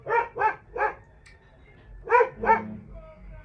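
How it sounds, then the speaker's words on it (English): A dog barks five times in two quick bursts, a pair and a single and then another pair, loud and close in an indoor setting with no talking over it. "This dog will not let me be great."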